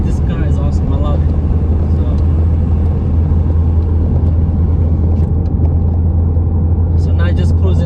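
A 2015 Ford Fiesta ST engine drones steadily from inside the cabin, a loud low hum with road rumble holding constant while a voice chirps faintly at moments.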